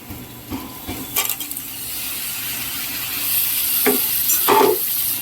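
Vegetables with cabbage, potato and eggplant stir-fried in a pan: steady sizzling and frying with a few scraping stir strokes of a utensil, close and continuous, no voices.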